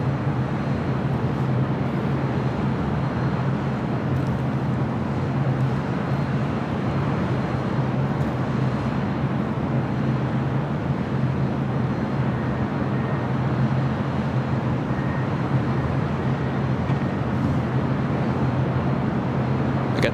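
Airbus A350-900 airliner at LAX, a continuous broadband jet roar with a steady low rumble, moderately loud and unbroken for twenty seconds, no talk.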